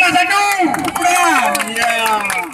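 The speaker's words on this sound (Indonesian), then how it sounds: "tepuk tangan untuk kelas 1" Students at a school class-awards event clap together in a lively burst, loud and close, with excited voices and cheering layered over the clapping throughout.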